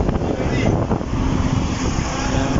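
Strong wind buffets the microphone outdoors at a tarpaulin installation site in Mapulang Lupa, Valenzuela, a loud, continuous roaring rush with no clear pauses.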